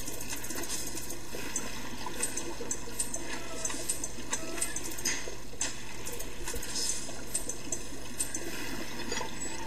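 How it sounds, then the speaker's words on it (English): A toilet flushes in the video game BioShock, producing a steady run of gurgling, trickling water with small splashy spatters throughout, moderately quiet and continuous with no speech. "Flush the toilet. Just did."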